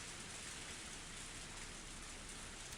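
Heavy rain pours down in a dense, even hiss that stays constant and loud throughout, with no voices and no thunder.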